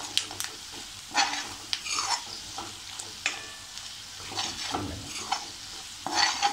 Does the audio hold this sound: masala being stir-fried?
yes